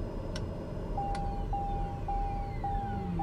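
Cockpit alarms in a TBM aircraft after engine shutdown in Microsoft Flight Simulator 2020: a repeating electronic beep tone pulses at regular intervals over a low steady background hum, with a couple of brief chime-like tones early on.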